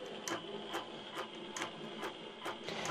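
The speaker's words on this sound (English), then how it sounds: "And then you can hit continue and it'll begin stitching." A long-arm INNOVA quilting machine running on AutoPilot stitches steadily, its motor hum carrying rhythmic clacks about every half second, moderately loud with no talk.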